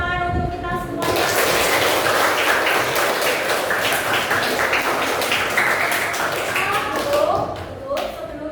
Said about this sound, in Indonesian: sekarang kita berikan tepuk tangan untuk kita semuanya